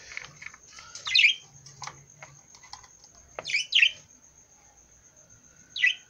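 Budgerigar chicks chirp in short, high bursts at irregular intervals over a quiet background of faint rustling and a steady high whine.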